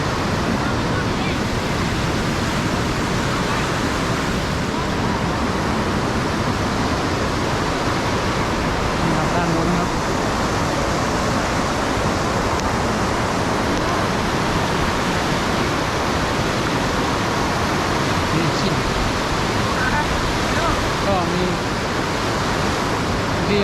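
A strong waterfall at Lam Takhong pours in a continuous, loud, dense roar of rushing water that holds steady throughout.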